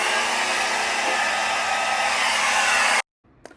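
A hair dryer blows steadily on wig hair, loud and close in one unbroken roar for about three seconds before it cuts off abruptly, leaving a faint rustle.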